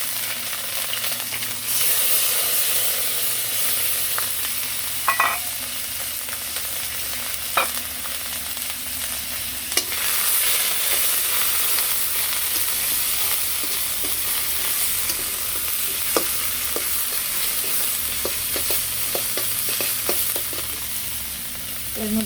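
Onion, ginger and garlic paste sizzles steadily in hot oil with bay leaf, a continuous close frying hiss broken by occasional stirring scrapes, no voices.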